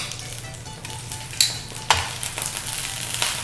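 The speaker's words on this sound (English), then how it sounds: "You want to flip your eggplants over and make sure that they look toasty brown on the back side of them" Eggplants sizzle steadily in a frying pan, with a couple of sharp clacks and scrapes as pieces are flipped, close and clear with no talking.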